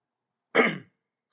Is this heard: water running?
no